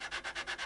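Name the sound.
sanding guitar frets with 400 grit sandpaper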